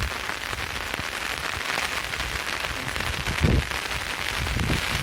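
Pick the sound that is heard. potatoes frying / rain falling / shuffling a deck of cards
rain falling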